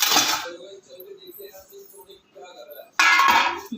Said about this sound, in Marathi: प्लेट काढून घेते मी.